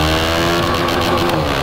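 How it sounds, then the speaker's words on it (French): A KTM Duke 390 motorcycle with a fully decatalysed exhaust line and the baffle kept runs close by, a loud, dense engine drone with a brief rise in revs. "Le son reste raisonnable, il a décatalysé toute la ligne, il a quand même gardé la chicane"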